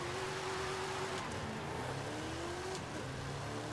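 Car engines roar together at a drag race start in Forza Horizon 5, a steady loud drone with a rising engine whine holding through the clip and no pauses.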